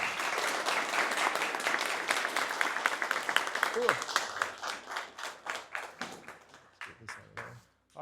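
A meetup audience at an automotive security talk breaks into loud, dense applause that gradually thins into scattered individual claps and fades, with a brief spoken word near the start.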